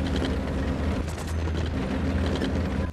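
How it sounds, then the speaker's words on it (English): A tank rumbles past in a wartime battle scene, heavy engine drone and clanking track mechanisms, loud and close throughout. "There's a fucking tank, that's why."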